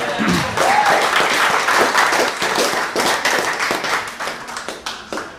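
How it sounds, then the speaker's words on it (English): Applause from a comedy club audience at Gravity Box for a comedian's wife, a dense wash of clapping that holds steady and then thins into scattered individual claps toward the end. "So let's clap for her."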